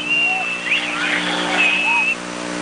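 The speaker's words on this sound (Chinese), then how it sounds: "在周末的深夜骑改装摩托车上阳明山大玩特技" Modified motorcycles racing at night on a Yangmingshan mountain road, engines revving loudly and continuously close by, with rising and falling whines as bikes pass.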